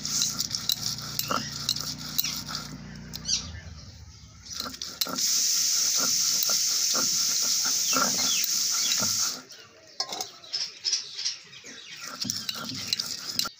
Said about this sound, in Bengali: আজকের জন্য বাটা এই যে আমার হয়ে যাবে, এখন বেটে নিই।